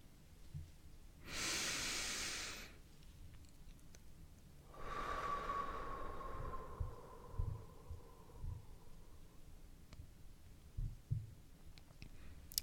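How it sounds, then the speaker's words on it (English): Slow, deep breaths during a guided relaxation exercise, a long airy exhale near 1.5 s followed by a longer, softer breath with a faint whistling tone, quiet and close with small rustles after. "Don't rush yourself with breathing"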